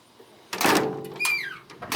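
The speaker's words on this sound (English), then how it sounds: "This door doesn't close very well." A Ford F100 truck door that no longer closes well, with worn weather stripping, is swung and slammed in one solid close thud, followed by a brief metallic creak and rattle.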